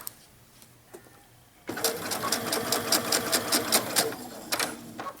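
A sewing machine runs through glue-stiffened feather trim on a vintage 1960s-style dress, its needle gummed up: a brisk, rhythmic burst of close stitching kicks in after a near-silent start and continues to the end.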